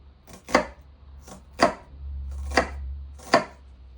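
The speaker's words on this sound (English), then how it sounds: "we're just going to slice down our onion" A knife slices down through an onion on a cutting board into thick rings, with four crisp, evenly spaced chops, each followed by a brief pause.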